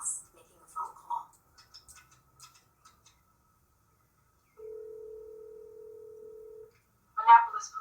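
A teenager in a big suburban house places a phone call in a film scene: scattered soft handling clicks, then a steady dial tone held for about two seconds, with a voice starting just after.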